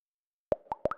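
Synth MIDI notes repeat as a delay echo, each copy pitched upward, imitating splashing water bubbles: a burst of short, bright, plopping tones, five quick hits in an uneven rhythm after a silent start, close and clean.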